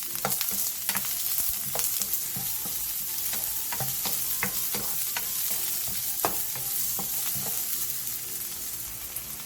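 Onion and carrot stir-fried in oil in a pan over medium heat, a steady close sizzle broken by scraping and clacking stirring strokes throughout, no talk.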